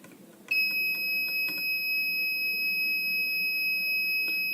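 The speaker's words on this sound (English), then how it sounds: "The sensor will get beep continuously." A passive infrared motion sensor's steady high-pitched electronic beep starts suddenly and holds continuously, with faint clicks underneath.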